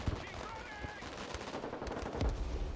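Rapid machine-gun bursts and scattered shots crackle through a real-time strategy military battle in the game Broken Arrow, irregular and fairly close, with a louder burst toward the end.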